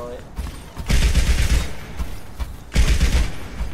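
Bastion's minigun firing in Overwatch as a stationary turret, two loud sustained bursts of rapid gunfire, each lasting under a second, with faint talk underneath.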